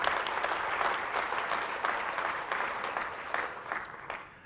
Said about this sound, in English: Let's give a round of applause because we'll have new faces.